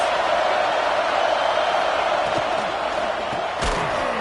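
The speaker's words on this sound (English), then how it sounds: "This crowd trying to make life miserable for this offense" Roaring crowd at a Longhorns vs Aggies college football game, a dense, steady wall of stadium noise with a loud thump near the end and a commentator talking over it.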